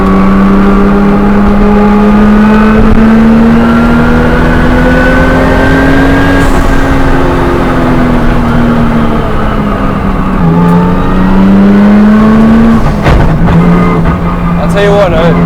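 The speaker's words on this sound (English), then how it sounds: "You can hear that gearbox screaming. I can hear the two turbos" A Nissan R34 GT-R with twin turbos accelerates hard from inside the car, its loud gearbox whine climbing in pitch over the engine roar, briefly dropping at each shift and then rising again.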